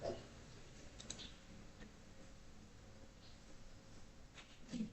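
A few faint mouse clicks on a web page link, small isolated ticks over a low, quiet room hum with no talking.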